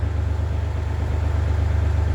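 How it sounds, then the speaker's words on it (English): A 2012 Toyota RAV4 engine idling, heard at the exhaust: a steady low rumble with even rapid pulsing, close and loud, with no talk. "And a shot of the exhaust with the motor running."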